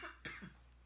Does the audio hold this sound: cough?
yes